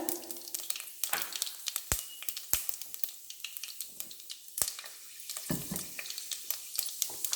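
Cumin and fenugreek seeds sizzle in hot oil in a pan for a brinjal tamarind curry, a steady crackling fry punctuated by sharp clicks and knocks of utensils.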